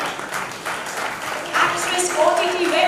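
Audience applause at the 27th Lions Gold Awards 2021 show, moderate clapping in a hall that swells near the end while a host talks over it.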